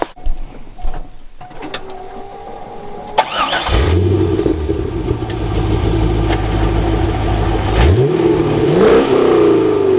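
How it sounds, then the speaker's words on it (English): A 1997 Corvette V8 cranks and fires up, then idles with a deep rumble and revs a few times, loud and close. "But yeah, we'll fire it up."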